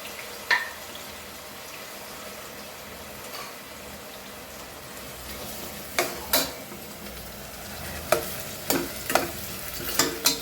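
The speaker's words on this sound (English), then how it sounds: "Fry onion till golden brown." Onion fries in a pan under a soft, steady sizzle, with irregular sharp stirring clinks and scrapes of a utensil growing more frequent toward the end.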